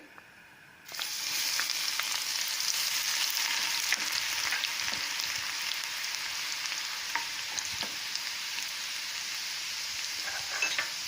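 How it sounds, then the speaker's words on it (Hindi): Garlic hits hot oil and bursts into a loud, steady sizzle that crackles and spits continuously, close up, after a brief quiet start. "देखिए तेल गरम हो गया है, अब इसमें हम लहसुन डालेंगे।"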